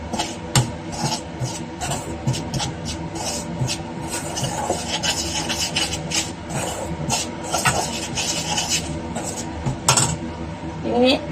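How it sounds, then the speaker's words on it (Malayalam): Flour and salt are stirred together for puri dough, producing continuous close scraping and clinking of a utensil against a bowl, with busy uneven rhythm and some faint background voice. "ഉപ്പ്. നന്നായിട്ടൊന്ന് മിക്സ് ചെയ്ത് കൊടുക്കുക."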